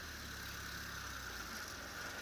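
A high-mileage WW2 Willys jeep engine idles faintly and evenly, a low steady chug with slight vibration, heard alone.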